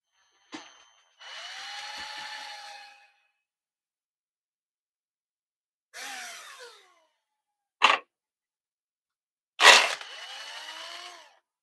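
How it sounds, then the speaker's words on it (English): An electric drill whirs in several separate bursts while drilling a hole in a 1/6-scale RC Willys Jeep part, each winding up and spinning down, with quiet pauses and short sharp blips of the chuck hitting the bumper guard between runs. "we're going to take our drill and we're going to drill us a hole right in the middle of that thing."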